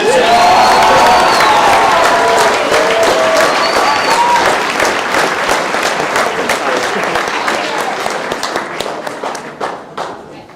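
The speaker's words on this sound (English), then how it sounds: "Please, another round of applause for Mr. Hunter Dodge" An audience at a martial arts black belt graduation applauds loudly, a full, sustained roar of clapping with some cheering that gradually thins into individual claps as it dies away.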